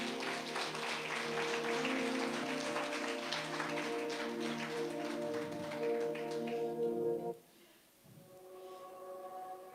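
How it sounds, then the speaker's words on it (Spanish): A church congregation claps during a Catholic service, with steady applause over a sustained musical tone that lasts about seven seconds before cutting off into a quieter stretch. "Un aplauso al Señor."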